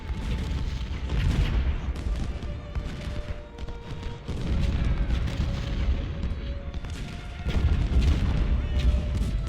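Cannon and artillery shots from the Civil War strategy game Ultimate General Civil War, set at the Battle of Shiloh, boom repeatedly as a rolling barrage over dense battle noise, with a faint in-game tone underneath.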